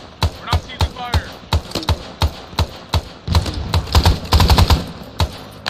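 Rapid gunfire in an Arma 3 Vietnam-era military simulation, loud bursts and single shots cracking in an irregular rhythm, with shouted voices mixed in beneath the shots.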